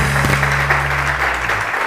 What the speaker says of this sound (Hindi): बहुत सारी तालियां मंदोखेल साहब।